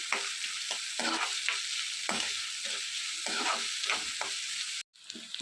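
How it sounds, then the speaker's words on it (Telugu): Onions and dried red chillies fry in a pan for potato kurma, a faint, steady sizzle broken by repeated stirring scrapes, cutting off abruptly near the end. "ఇందులోనే కొన్ని ఎండుమిర్చి కూడా వేసుకోవాలి వీటన్నిటిని బాగా కలుపుకుంటూ ఆనియన్స్ అన్నీ మధ్య అంతవరకు వేయించుకోవాలి"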